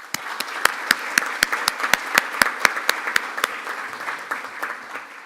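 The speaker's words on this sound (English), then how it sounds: "Please give them a round of applause." A round of applause at a Rotary Club meeting greets newly introduced members, with sharp individual claps ringing out in an uneven rhythm that thins toward the end. It is moderately close, and no voices come through.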